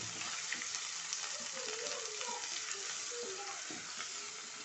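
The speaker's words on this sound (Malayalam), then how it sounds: "നന്നായിട്ട് എണ്ണ തെളിയുന്നവർക്ക് ഒന്ന് വഴറ്റിയെടുക്കാം." Masala for paneer butter kurma is sautéed in oil, a continuous bright sizzle and crackle with occasional stirring scrapes, close and steady with no talking.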